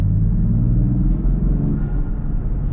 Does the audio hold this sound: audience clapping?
no